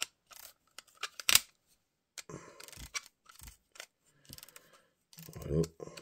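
A Nitecore NPL25 lamp is clipped onto a rail mount and tightened, giving sparse, close clicks, scrapes and small metallic snaps separated by quiet gaps, with a voice speaking faintly between the handling noises.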